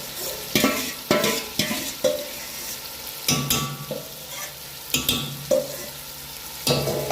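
A spoon repeatedly scrapes and stirs chicken dum biryani cooking over a low gas flame, producing a rhythmic series of close, distinct strokes over a faint, gentle simmer.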